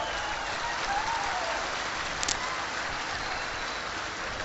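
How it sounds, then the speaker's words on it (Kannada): An audience applauds at a community speech, steady dense clapping that fills the whole stretch at an even level, with no voices standing out. "ನಿಮಗೆ ಖುಷಿ ಆದ್ರೆ ಚಪ್ಪಾಳೆ ಹೊಡಿರಿ."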